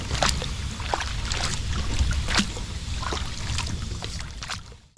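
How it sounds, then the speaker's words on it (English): A canoe or kayak paddled on a creek at night gives close sloshes and watery strokes with irregular splashes, steady and near, ending abruptly. "I'm gonna sign off and focus on paddling back to camp in the dark."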